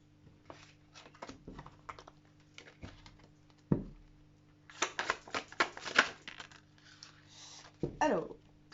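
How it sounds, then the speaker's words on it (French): Oracle cards shuffled by hand close up, with soft riffling and flicking bursts in short bouts and a denser flurry midway, over a faint steady hum. "On va tirer maintenant une carte message,"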